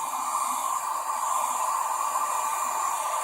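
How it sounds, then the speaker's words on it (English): A hairdryer on its high setting blows steadily onto paper coloured with food colouring, a constant loud whooshing hiss that holds level throughout without a break. "I put my hairdryer on high so it dries it quicker."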